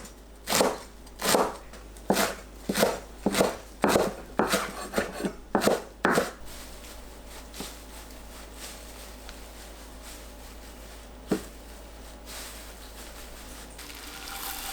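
A knife cuts perilla leaves into thin strips on a cutting board, about a dozen crisp, evenly paced chopping taps close up, then quiet with one more tap later.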